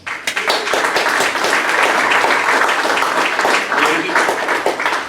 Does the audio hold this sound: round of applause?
yes